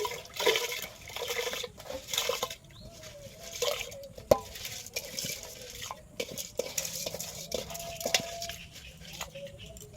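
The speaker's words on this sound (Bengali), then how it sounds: "এখন আমি চালটা ঢেলে দেব।" Washed rice tipped into a pot of hot water on the stove, with soft scattered splashes, pours and light clinks against the pot, fairly faint and close.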